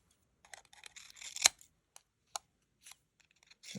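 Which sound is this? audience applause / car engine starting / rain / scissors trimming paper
scissors trimming paper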